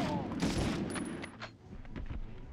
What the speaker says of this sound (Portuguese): Por que o cara tava atirando pra cima?